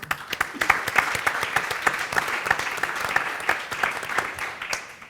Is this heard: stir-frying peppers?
no